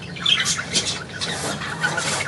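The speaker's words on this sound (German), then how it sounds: "Alte Möwe." An old seagull squawks outdoors in a string of loud, harsh, close calls repeating through the whole moment, with no talking over them.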